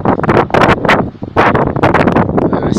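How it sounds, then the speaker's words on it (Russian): Strong wind buffets the microphone in rough, loud gusts, with roaring bursts separated by brief lulls and no speech. "Сильный ветер."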